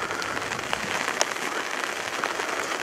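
Steady, faint rain patters down outdoors on a mild 14-degree day in a town street, a continuous soft hiss with scattered sharper drops.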